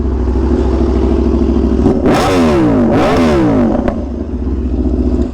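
Two sharp revs of a motorcycle engine rise and fall over a steady rumbling idle, loud and close.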